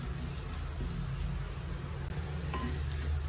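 Ingredients fry in about one and a half spoons of hot oil for a spicy Ayala mulaku (mackerel) curry, giving a soft, steady sizzle with faint stirring scrapes that stays even throughout.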